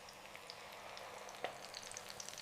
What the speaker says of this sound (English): Pour the batter into each hole until they're about 2/3 full and listen for that sizzle.